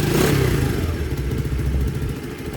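An Ice Bear 125 CT70 clone engine fitted with a Nibbi carburetor, 19 mm jetting, runs steadily close by, a loud rapid small-engine putter with a mechanical clatter that eases slightly after an initial burst.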